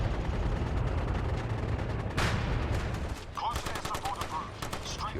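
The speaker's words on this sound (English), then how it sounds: "Close air support approved. Strafing left." Close air support strafing run in the military shooter MAG: a sustained roar of heavy gunfire and impacts, with a sharp burst midway, followed by scattered cracks of shots and radio-like chatter in the background.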